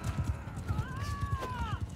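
Horse hooves clip-clopping in a steady rhythm in Mount & Blade II: Bannerlord, with a brief whinny on top and faint voices mixed in.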